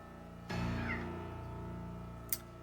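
A pet cat held in someone's arms meows in one drawn-out, close cry lasting about two seconds, followed by a brief sharp sound near the end.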